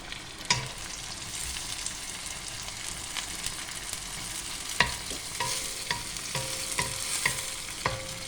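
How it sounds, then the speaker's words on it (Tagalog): Tomato fries with amplaya in a pan, giving a steady sizzle while a utensil stirs and scrapes with repeated clinks against the pan, close and fairly loud, with no speech. "pwede na rin natin ihulog yung guys, yung tomato para maluto siya."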